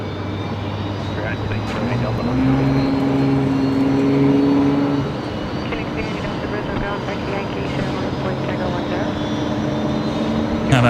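Small Gulfstream business jet departing Brisbane Airport from the general aviation apron, a sustained engine drone with steady humming tones that swells for a few seconds then settles, under faint background talk.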